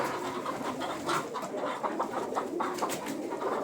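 Pigeons coo and murmur in a steady, busy chorus, with soft wingbeats and rustling close by in a loft or coop.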